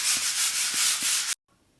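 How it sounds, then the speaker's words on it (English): Sandpaper is rubbed by hand over dried wall filler in quick back-and-forth strokes, a rhythmic scratchy rasp of about four strokes that stops abruptly. "So we get some sandpaper and we give them a good sanding down."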